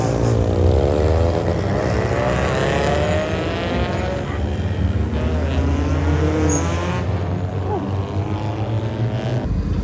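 Tuned Toyota Vios or Yaris engine revving loudly at a festive Hari Raya night car meet, a sustained deep exhaust roar with rising and falling harmonics filling the whole stretch, crowd noise beneath.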